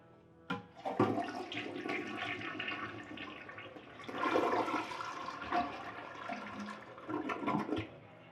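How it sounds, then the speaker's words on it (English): A newly installed toilet flushes in a home bathroom, with a sharp click of the handle followed by a loud rushing swirl of water that gurgles and refills for several seconds. "we're gonna test this out and make sure there's no leaks when we flush it"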